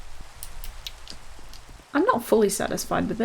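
Soft, steady rain patter in the video game Minecraft, a faint hiss with scattered droplet ticks, continuing underneath a voice that begins partway through.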